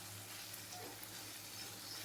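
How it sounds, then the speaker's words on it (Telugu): Vegetables fry in oil over a medium flame for restaurant-style pasta, giving a soft, steady, even sizzle that holds at a low level throughout with no voices. "ఈ వెజిటేబుల్స్ అంతా స్మూత్గా ఉడికేంత వరకు ఫ్రై చేసుకోవాలి"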